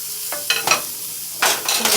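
Turkey sliders cooking on a grill: bursts of crackling sizzle come and go, with short scraping and stirring sounds in between, loud and close with no talking.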